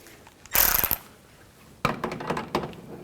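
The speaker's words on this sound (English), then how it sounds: "And snug the bolts up." A ratchet snugging fog light bolts on a 2002-2006 Chevy Avalanche, heard as two close bursts of quick metallic clicking separated by a short pause.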